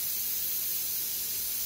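Steam hisses steadily from a double-decker pressure canner loaded with potatoes, a broad, even rush of noise close by with no pauses.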